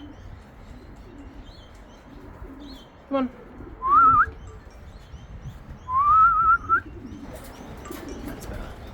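Racing pigeons returning to a home loft, with two drawn-out whistling calls standing above a steady outdoor murmur, a sharp click just before them, and a brief spoken word.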